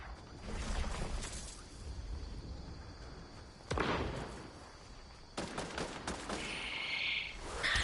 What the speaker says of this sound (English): I hear firing